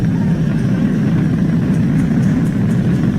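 Merlin engines of a SpaceX Falcon 9 rocket thunder steadily during ascent, a loud, continuous low roar with little variation and faint crackle above it.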